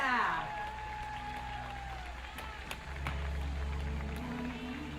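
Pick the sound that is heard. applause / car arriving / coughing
applause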